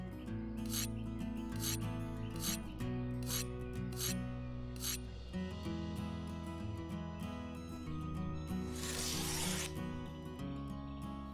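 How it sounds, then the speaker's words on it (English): A scythe blade is sharpened outdoors in an overgrown garden, with short, regular rasping strokes repeating in a steady rhythm over steady background music. "Make sure to always sharpen your scythe properly."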